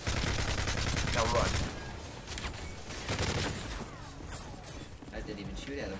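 Gunfire in Call of Duty: Modern Warfare 3, a loud burst of rapid shots up front, then scattered bursts and shots under brief talk.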